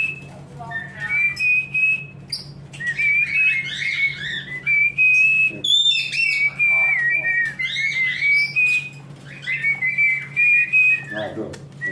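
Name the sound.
cockatiel imitating whistling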